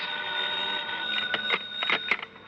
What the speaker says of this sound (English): the phone beside my bed started jangling again